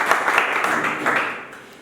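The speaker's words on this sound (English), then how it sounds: "Clap for him." Applause from a classroom of students, a short burst of clapping that rises quickly and then fades over about two seconds.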